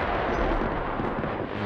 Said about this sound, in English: that unintelligible sound to me was the sound of an explosion